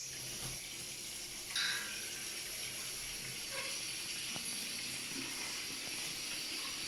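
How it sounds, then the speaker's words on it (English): Tap water running steadily as a bath is prepared for a pet monkey, a continuous soft hiss of flow with a brief louder splash near the start, heard indoors at moderate distance. "going to run the water through"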